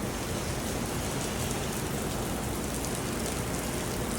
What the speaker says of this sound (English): Man, look at all this rain, guys.